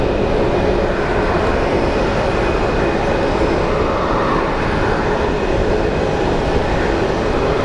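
A CRJ jet taxiing at Phoenix Sky Harbor airport produces a loud, steady broadband engine roar with a faint constant whine, unbroken throughout.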